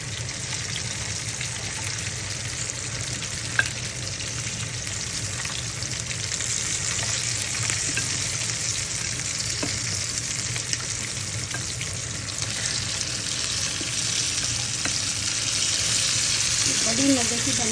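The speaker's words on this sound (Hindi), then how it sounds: "अब हम इसी के अंदर चॉप्स को डाल देंगे उठा के ताकि चॉप्स जो है वो भी अच्छे से फ्राई हो जाए" Lamb chops fry in a pan with a steady broadband sizzle throughout, close and even, with faint clinks and a brief water-like trickle near the end.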